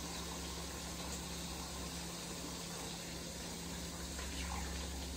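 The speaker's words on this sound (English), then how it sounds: "I'm gonna wash my hands real fast" Hands washed under a running kitchen tap, a steady close rush of water with no breaks, loud and even throughout.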